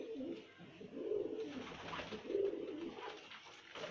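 Pigeons coo close by in soft, repeated throaty phrases, with a brief rustle between the calls.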